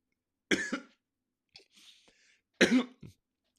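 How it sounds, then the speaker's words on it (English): Two sharp, close coughs separated by a short pause, with a quieter throat noise in between. "If you're a believer or not, you're going to cough"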